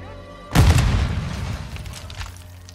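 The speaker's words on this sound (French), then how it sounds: "Ah, la grenade." A grenade goes off in Call of Duty: Modern Warfare II with a sudden heavy boom and a rumbling decay lasting about two seconds. It is loud and close over low game background.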